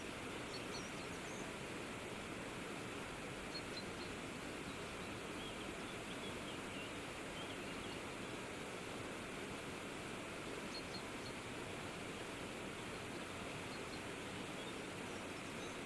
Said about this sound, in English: Let yourself be fueled and nourished by the waterfall here, where we've practiced today.